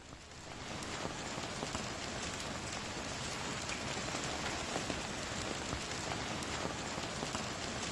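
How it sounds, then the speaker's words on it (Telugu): A hailstorm pelts down in Miyapur, Hyderabad, as a dense, steady patter and hiss of falling ice and rain that swells in over the first second and then holds at an even level. "ఇక మియాపూర్లో కురిసినటువంటి వడగళ్ల వాన దృశ్యాలను మనం చూస్తున్నాం బిగ్ టీవీ స్క్రీన్ మీద"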